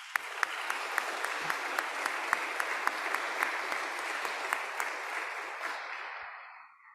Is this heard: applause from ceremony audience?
yes